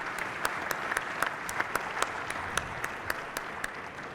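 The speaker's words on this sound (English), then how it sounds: "let's give a round of applause to our first panel" Applause for a panel at a state DOT CEO roundtable: a small audience claps at moderate distance, the sparse claps evenly spaced and fairly quiet over the room's ambience, with no voices.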